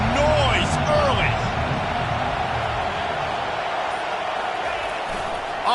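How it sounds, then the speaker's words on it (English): A stadium crowd at a college football game, Iowa State against Virginia Tech, roars steadily and loudly throughout, with brief whistle-like tones near the start and a commentator's voice under the noise. "This crowd bringing the energy and noise early."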